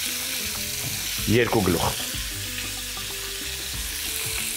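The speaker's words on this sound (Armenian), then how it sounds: "երկու կողմից մսակտորները կարմրացնում ենք" Pieces of meat brown in a kazan with a continuous loud sizzle, a brief burst of stirring and bubbling midway, and a voice speaking over the frying.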